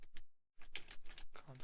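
Someone types on a computer keyboard in short rapid bursts of clicky keystrokes, with a brief silent gap partway through and no talking.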